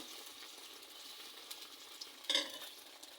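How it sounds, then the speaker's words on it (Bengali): Egg frying in oil in a hot wok, a soft steady sizzle with faint stirring scrapes and a brief louder crackle near the end, heard alone without talk. "ডিম ভাজি করছি"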